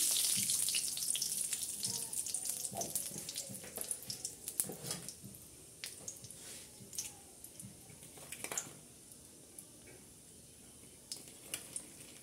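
Black cumin seeds fry in hot oil in a wok for a fish curry, giving a steady, close, bright sizzle with scattered sharp pops and crackles throughout.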